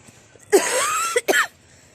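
Two sharp coughs close to the microphone, the first longer and rasping, the second short, against a quiet background.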